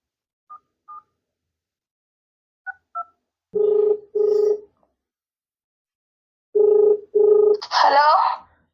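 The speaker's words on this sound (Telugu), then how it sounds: "ఇప్పుడైతే ఆ అబ్బాయికి అయితే కాల్ చేద్దాం" A phone call is dialed, with several short keypad beeps followed by two pairs of longer ringback tones, loud and clear against silence, then a brief garbled burst at the end.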